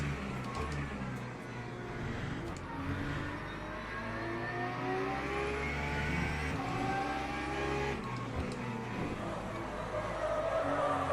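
In the Le Mans Ultimate racing game, a race car's engine whines and revs through gear changes while tyres squeal, amid the simulated crash of being hit from behind, with steady in-game car noise throughout.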